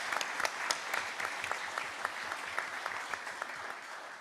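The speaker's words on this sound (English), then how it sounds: "round of applause" An audience at a county district supervisor candidate forum claps steadily, a dense patter of many hands heard at moderate distance and fairly quiet, sustained for several seconds without speech.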